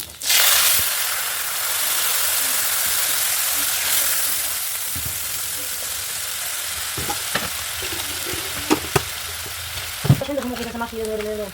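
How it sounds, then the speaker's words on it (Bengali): Whole cumin, ground coriander, cumin and turmeric fry in hot oil with a loud, hissing sizzle that gradually settles, followed by scattered stirring clicks and a brief voice near the end. "জিরা মশলাটাকে কষিয়ে নেব"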